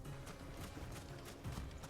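Faint, quick rhythmic footfalls from a riding bird mount in Final Fantasy 16, soft clip-clop steps under a hissy background.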